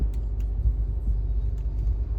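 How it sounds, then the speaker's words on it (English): A 2024 Acura RDX SUV idling just after starting, a steady low engine rumble heard from inside the cabin with no talking. "so now we're firing up the car here"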